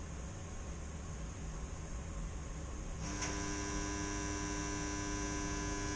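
Steady electrical hum from a pellet stove auger motor that is powered but not turning; a constant tone that turns louder and richer after about three seconds, with no pellets heard falling.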